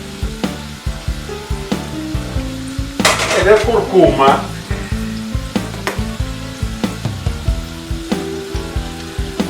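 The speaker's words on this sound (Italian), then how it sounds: "Questo già friggendo delle patate." Potatoes fry in a pan with loud, steady sizzling and crackling, joined by scraping stirs and clinks of utensils against the pan partway through; someone speaks briefly.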